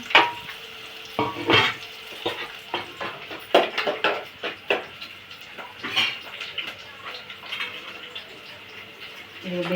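Onions hitting hot oil in a pan for chicken curry, a steady sizzle with scraping stir strokes and clinks of a utensil against the pan, close up with no talking.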